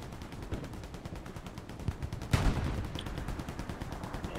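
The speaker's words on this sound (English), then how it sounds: "Yeah, it's definitely artillery." Artillery fire in the World War II shooter Hell Let Loose, a rapid rattle of distant shots with one heavier, louder blast midway, under a constant battlefield rumble.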